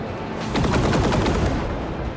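Interceptor fire on a turret in the Rogue Trader video game, a dense burst of rapid repeated shots rising at about half a second and rattling steadily to the end, loud and with no talking.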